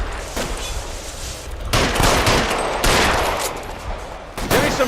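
Bursts of rapid gunfire in the LA Noire video game, several loud sustained volleys of automatic fire with short gaps between them and no speech over them.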